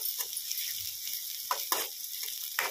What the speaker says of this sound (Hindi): प्याज तला रही हूँ